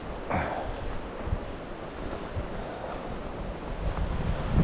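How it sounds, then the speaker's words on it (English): Wind blows steadily at a riverside campsite at Skresanden, buffeting the microphone with a broad, rushing noise and low thumps. "The wind is blowing straight upstream"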